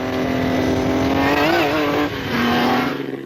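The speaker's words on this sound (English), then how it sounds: "It sums up for me what a racing engine should feel like and sound like" A Grand Prix racing car engine revs hard and loud up close, its pitch climbing and dipping in a sustained, throaty roar.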